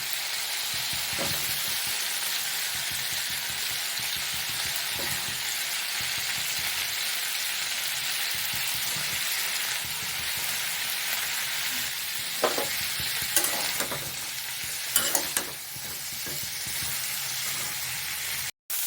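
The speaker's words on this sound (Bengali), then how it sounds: "ফুলকপিটা এবার ভাজতে দিয়ে দিচ্ছি।" Cauliflower fries in oil already tempered with bay leaf, chili and garam masala, giving a continuous close sizzle, with scraping stirs in the pan growing sharper and more frequent toward the end.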